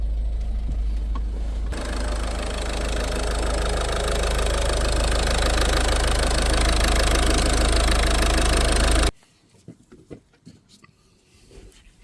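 A Ford C-Max 1.6 TDCi diesel engine idles after a fuel filter service, a loud steady clattering drone held close for several seconds before cutting away to quieter handling noises.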